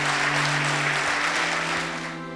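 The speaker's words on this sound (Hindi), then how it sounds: "एक बार तालियां बजाएं, इनका अभिनंदन करेंगे।" An audience at an Arya Samaj event breaks into loud, close applause, a dense burst of clapping that slowly fades, with a steady hum underneath.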